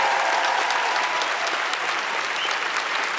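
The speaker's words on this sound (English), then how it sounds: "Let's have a round of applause for this magnificent company who've come out to perform for us." Theatre audience applauding a performing company at a literary debate event, steady dense clapping from a large crowd throughout, loud and unbroken with no talking over it.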